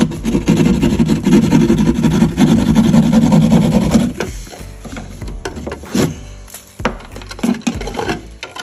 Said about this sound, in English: So now I can trace out the box and cut it out.